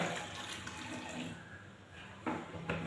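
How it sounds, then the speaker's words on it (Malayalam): Water splashes and trickles continuously into an empty milk packet, with a couple of louder gushes near the end; no voices. "കുറച്ച് വെള്ളം ഒഴിക്കാം"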